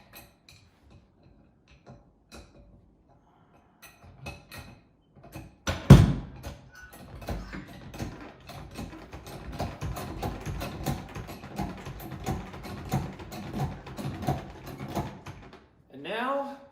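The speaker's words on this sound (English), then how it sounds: "Then we're going to jack the machine up again." A jack raises a Ski-Doo rMotion X snowmobile in a garage, producing rhythmic ratcheting clicks that speed into a steady mechanical clatter after a few quiet taps, close by, with a voice briefly heard near the end.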